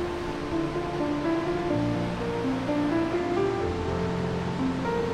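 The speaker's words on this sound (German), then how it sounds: "der höchste Wasserfall Europas und der 5. höchste der Welt" The Krimml Waterfalls, Europe's highest waterfall, set among Alpine mountains, roar as a loud, constant broadband rush of falling water, with a few thin tonal lines threading through the wash.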